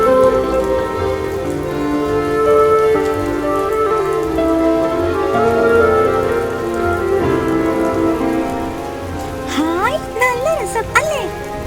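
Heavy rain pours steadily onto surfaces in a thick, even downpour, with brief voice-like sounds near the end.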